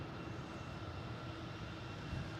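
A JetBlue Airbus A320 on approach to Boston Logan makes a steady, moderately distant jet engine rumble with a broad, even roar and no voices.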